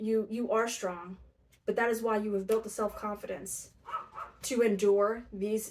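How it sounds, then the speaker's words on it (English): A dog barks in the background while a person talks steadily over it. "I apologize for my dog barking in the background."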